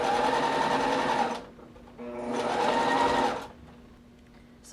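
A sewing machine stitches down a headband made from a recycled sweater, running in two loud, steady bursts with a short pause between them and no talk.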